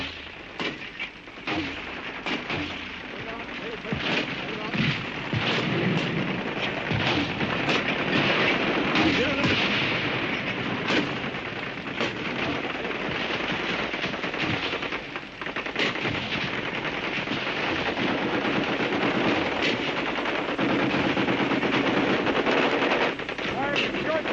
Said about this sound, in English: After the broadcast came the bullets. The bombardment lasted a full hour.